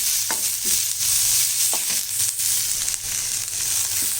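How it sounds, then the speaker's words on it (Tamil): Onions sauté in a hot pan for paruppu adai dosai, giving a steady close sizzle broken by occasional scraping stirs throughout, with no talking. "இப்போ இது கொஞ்சம் பாதி அளவுக்கு வதக்கினா போதும்"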